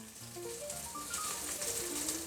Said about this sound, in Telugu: మీడియం సైజ్ ఉల్లిపాయ అలాగే మూడు పచ్చిమిరపకాయలు కట్ చేసి పెట్టుకొని వాటిని కూడా వీటిలో యాడ్ చేసుకుందాం వేగుతూ ఉంటాయి